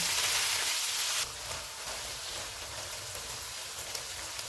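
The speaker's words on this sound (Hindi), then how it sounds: "600 ग्राम बीफ का कीमा डालेंगे। चूल्हे को फुल रखेंगे और इसको 3 से 4 मिनट तक भूनेंगे।" Beef mince frying on full heat in a pan gives a loud, steady, hissing sizzle that drops slightly in level after the first second and then continues evenly with no talking.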